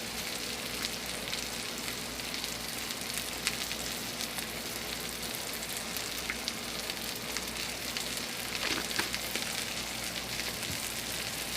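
Meatballs simmering in spaghetti sauce seasoned with dry Italian seasoning and garlic powder, giving a steady, dense sizzle and bubbling that runs evenly throughout with faint scattered pops, no voices.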